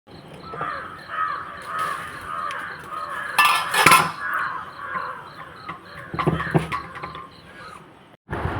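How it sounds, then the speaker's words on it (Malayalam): Crows caw repeatedly in the background over faint morning outdoor ambience in a house's kitchen yard, with a brief clatter of dishes partway through. "രാവിലെ തന്നെ കുറേ കിളികളെ സൗണ്ട് ഉണ്ടാവും,"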